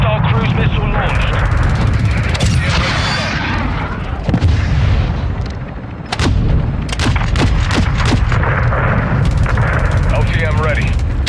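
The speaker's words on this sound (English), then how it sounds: "Hostile cruise missile launched." Cruise missile strike in Modern Warfare 2 ground war gameplay: a continuous roar of explosions and booming gunfire, with sharp blasts later on, loud and dense under radio chatter.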